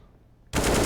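Sudden burst of rapid automatic gunfire from Counter-Strike: Global Offensive, erupting loud and dense after half a second of near silence during a competitive match on Mirage.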